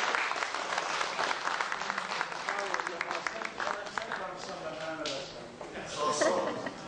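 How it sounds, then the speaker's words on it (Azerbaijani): Audience applause fills the room, a dense, steady clapping from a crowd that rises slightly near the end, with a voice faintly audible beneath it. "Gəlin alqışlayaq Fikrət."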